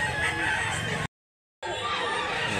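A white Kelso rooster offered for sale at a rooster market in Mantalungon, Barili, Cebu, crows loud and close, broken by a brief silent gap before the call resumes, with no talking.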